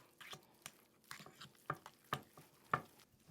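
Mashed baked-potato filling being stirred by hand with butter and green onions, giving soft scraping and clicking strokes of a spoon against a bowl in an irregular rhythm, fairly quiet and close, with no talking.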